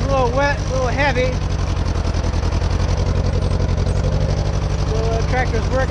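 Tractor engine labouring while plowing a wet, heavy field, a loud steady low chugging throb throughout, with a voice speaking briefly near the start and end.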